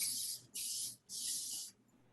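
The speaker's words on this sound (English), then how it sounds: "So I'm gonna spray this first so it doesn't stick." Cooking spray hisses onto small baking dishes in three close, steady bursts with short pauses between them, heard alone without any talk.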